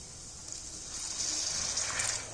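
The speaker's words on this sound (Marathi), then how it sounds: "आता ह्याच्यामध्ये थोडंसं आपण पाणी ओतणार आहोत" Water pouring into fried masala in a pan for a dhaba-style egg curry, a brief, close, steady gushing stream that swells slightly over two seconds.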